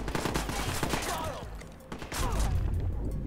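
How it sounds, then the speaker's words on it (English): Enemy gunfire aimed at the player in Watch Dogs: a sustained volley of rapid shots, loud and near, eases briefly past the middle and then swells again, with some speech mixed in. "Who's shooting me?"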